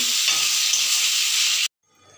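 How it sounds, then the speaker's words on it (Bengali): Steady, loud hiss of pointed gourd frying in hot oil, continuous for most of the clip before cutting off abruptly into near silence. "পটলগুলো পুরোপুরি ভাজা হয়ে গেছে"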